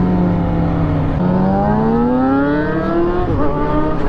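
Sport motorcycle engine, Yamaha R6 or Aprilia RSV4 RR, revving hard and climbing in pitch through the gears, loud and close with a steady whining tone and no talk.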